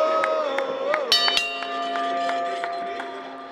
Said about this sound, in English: And the bell has sounded, and we are underway